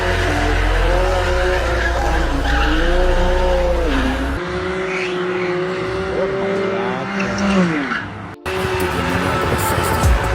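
A BMW M2 Competition's tires squeal in long wavering howls over a loud, steady engine roar, sliding continuously as in a burnout or drift, with a sharp cut near the end.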